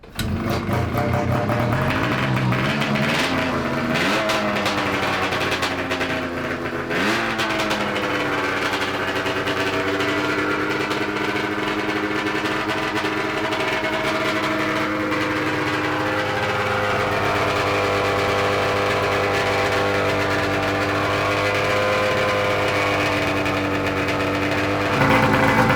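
A 125HP 670cc two-stroke go kart engine runs loud and steady for the whole stretch, revving up and down with shifting pitch sweeps and a dense, buzzy high-end rasp.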